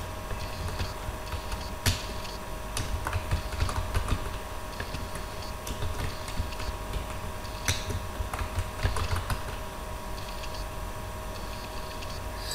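Rapid typing on a computer keyboard in typing-practice software, a fast continuous stream of close, crisp key clicks with occasional louder taps, no voice.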